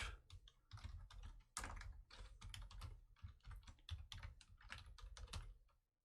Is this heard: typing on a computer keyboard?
yes